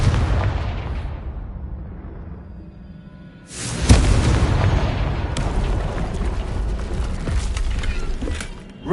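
A Confringo spell explosion in Hogwarts Legacy goes off as a sudden heavy boom, then rumbles and crackles on with debris noise after a quieter lead-in.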